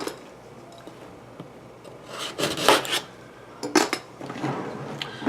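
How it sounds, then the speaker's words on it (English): Knife cutting open a cardboard subscription box, quiet rasping and scraping bursts of blade through tape and cardboard, a few close strokes separated by brief pauses, no voices. "I forgot to open that. Let me just grab a knife here."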